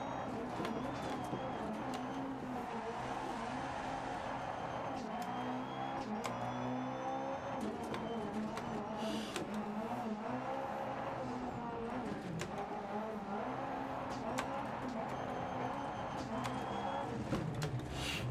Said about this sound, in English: one thing I'll say about the Fiesta, it makes a lovely noise